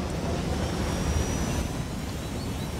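A helicopter in the video game Ghost Recon Wildlands produces a continuous, loud rotor and engine roar that holds steady for a few seconds with no talk over it.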